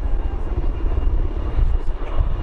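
A helicopter used in rappelling exercises with service dogs roars steadily and loudly nearby, with a throbbing low rotor drone and no speech.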